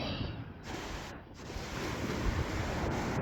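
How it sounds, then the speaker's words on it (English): Ocean waves breaking on a beach, a continuous rushing surf with swells rising and falling, roughened by wind buffeting the microphone and carrying no speech. "hear the waves."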